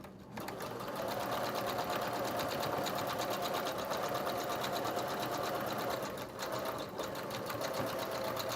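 A sewing machine stitching a seam on a small dress runs in one long steady burst with a rapid needle rhythm, close and even, dipping briefly near the end before carrying on.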